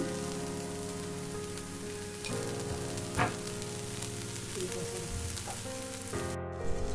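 Steady sizzling from a pan where food is sautéed with parsley, oregano, chili flakes, Kashmiri chili powder and salt, a continuous close frying hiss with occasional stirring scrapes, no voices.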